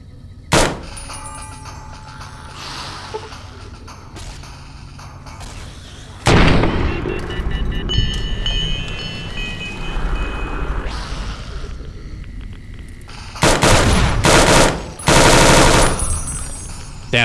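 Gunfire from a rapid-firing gun in Fallout New Vegas, loud bursts of shots separated by quieter gaps, with a long sustained volley in the middle and more heavy bursts near the end.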